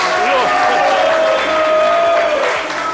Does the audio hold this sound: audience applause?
yes